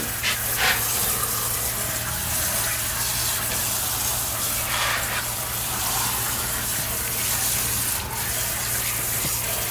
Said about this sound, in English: all I'm doing is rinsing the excess dye off before it goes into the washer